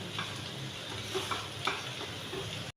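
Onions coated in spices sizzle steadily in a pan for besan bhurji while a spoon stirs them, with soft scraping strokes over the constant frying, close and alone.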